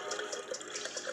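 Mountain Dew Voltage soda poured from a 2-liter bottle into another bottle, a steady bubbly liquid stream with fizzing and splashing, close and moderately loud, alone without talk.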